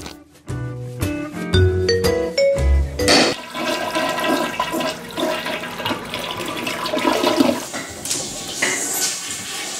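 A toilet flushes loudly and close by after a few bright chime-like tones, its rushing water roaring on for several seconds before easing off.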